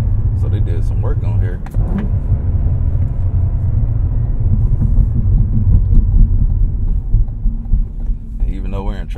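A Cadillac CT4-V Blackwing V6 being driven in track mode, its low engine rumble droning steadily inside the cabin while someone talks over it.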